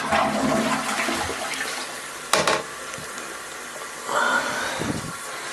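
A modern water-saving toilet with a partial-flush option flushes, a sustained rush of water running throughout, with a brief sharp clank partway and a gurgling refill toward the end, no one talking.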